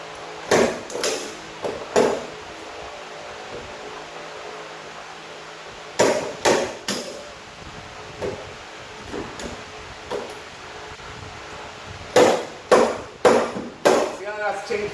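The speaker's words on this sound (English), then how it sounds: "You take your slide hammer," A slide hammer strikes repeatedly while pulling a welded stud on a car body dent, sharp metallic knocks coming in three quick clusters separated by quieter pauses, with a voice speaking in between.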